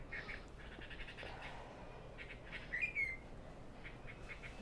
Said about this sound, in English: There's a playful bird that's singing in the nearby tree.